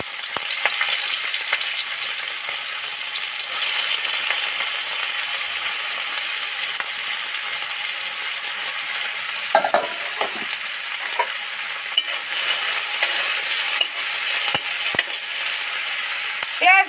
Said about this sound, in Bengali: কাঁচা লঙ্কাটা দিয়ে দিলাম এবার পেঁয়াজ কুচিটা তেলের মধ্যে উঠিয়ে দেবো